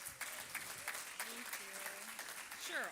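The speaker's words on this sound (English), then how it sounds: "Ladies and gentlemen, big round of applause for Anne Marie Sakrikoff." A faint, diffuse round of audience applause for a speaker at an education event, with indistinct murmuring voices mixed in underneath.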